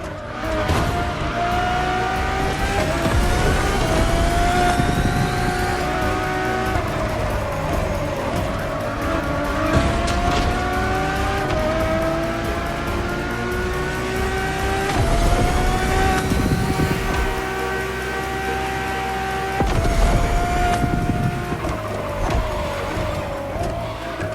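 A road-legal Formula One-style Ferrari supercar drives with a loud, close engine rising and falling in pitch through repeated revs and gear changes, with sharp shifts between pulls and no voices.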